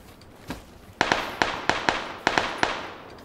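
Rapid gunfire in the battle royale game PUBG, about nine sharp cracks in quick irregular bursts over a few seconds, loud and close with no talk.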